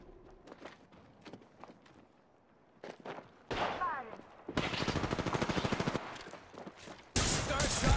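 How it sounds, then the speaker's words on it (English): Gunfire in Apex Legends: scattered single shots early on, then loud, rapid automatic bursts firing close by, with footsteps and talk in between. "shots fired and they're hitting me"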